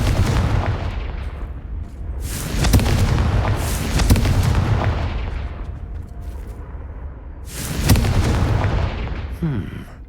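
Confringo fire-blast spell bursts in Hogwarts Legacy on PS5, a series of loud booming explosions with crackling tails, several blasts spaced a few seconds apart over low rumbling game ambience.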